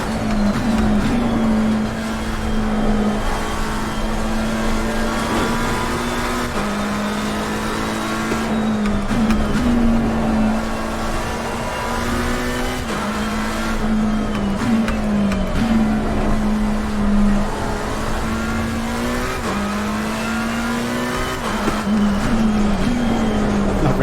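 Race car engine in Assetto Corsa Competizione, droning loud and continuous with the pitch climbing and dropping through repeated gear shifts as the car laps a circuit, with no voices over it.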